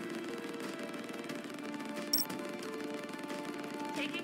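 Heavy, sustained gunfire rattles through a sci-fi space station battle game, a dense continuous clatter with a sharp crack partway through and no voices.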